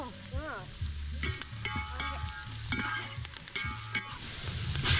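Onions fry with turmeric powder in a pan for a military-hotel-style goat head curry, sizzling softly and steadily while a spoon scrapes and stirs in repeated close clinks.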